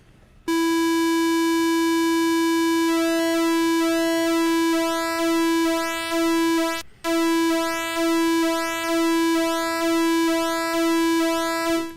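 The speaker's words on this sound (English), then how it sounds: "It's not a perfect sine wave, you can hear," Steady pulse-width-modulated synthesizer oscillator tone, close to a sine wave with audible harmonics, sustained loudly for about eleven seconds with a slow wavering timbre and one brief dropout partway through.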